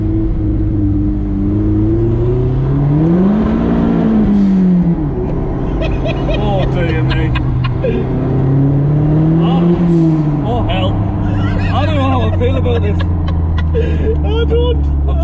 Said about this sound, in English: The very spacious Vauxhall VX220 Turbo.